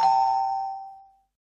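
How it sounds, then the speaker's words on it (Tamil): A single bright electronic doorbell chime rings once and fades away over about a second, leaving silence. "காலிங் பெல் அடிக்குது, யாருன்னு போய் பாரு."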